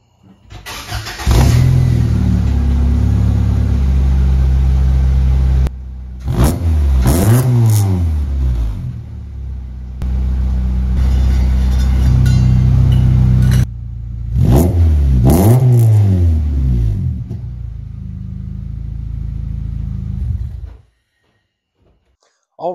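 A 1994-97 Honda Accord engine with a cat-back exhaust cranks and fires up, then revs hard several times with a raspy exhaust note, loud and close, before cutting off near the end.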